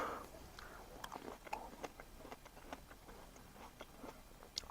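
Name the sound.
biting into a crunchy grape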